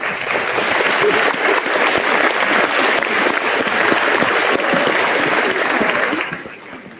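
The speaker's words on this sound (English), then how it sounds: "Please give them a round of applause." A crowd at a senior awards ceremony applauds honored students, loud sustained clapping from many hands that holds steady for several seconds before tapering off abruptly.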